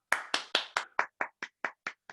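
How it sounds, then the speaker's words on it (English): Scattered audience applause at a vocal technique masterclass hosted by an opera company, about ten distinct claps in a slowing, evenly spaced rhythm, fairly close and moderately loud, with no talking. "Do you see everyone applauding?"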